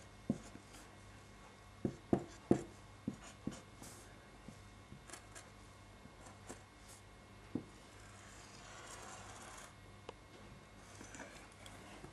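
A pen scratches and taps across paper while sketching a quadratic graph by hand, faint close strokes with a few sharp ticks early on and quiet scribbling later.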